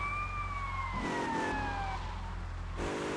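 Police car siren from the video game GTA Vice City, wailing in falling sweeps over a steady engine drone, loud and close, then cutting off partway through.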